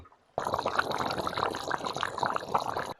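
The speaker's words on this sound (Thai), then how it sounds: "น้ำก็เดือดคลักคลักคลักคลักขึ้นมา" Chicken curry with cumin leaves bubbling in a pot, a steady close crackling and popping boil that starts abruptly and continues evenly throughout.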